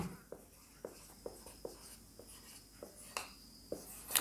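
A pen or chalk writing the word "proved" at the end of a school algebra proof, heard as faint, close scratching strokes with soft regular taps, in quiet surroundings without speech.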